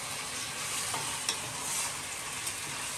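Chicken sizzling in a pan as it is stirred, a continuous hissing fry with a few soft scraping clicks from the stirring, close and steady with no talking.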